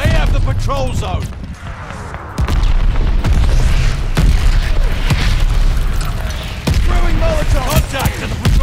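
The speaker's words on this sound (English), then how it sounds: "Friendly mortar fire coming!" Mortar fire in Call of Duty: Vanguard patrol mode, a series of heavy booming blasts at irregular intervals over a constant rumbling battlefield, loud and close, with game voice callouts in between.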